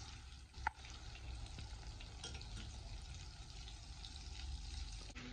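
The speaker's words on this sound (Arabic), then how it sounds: "التومه مع الزبده، نشوحها حلو قوي" Garlic sizzles softly in melted butter in a frying pan, a steady low crackle with an occasional small clink of a utensil, faint and without talk.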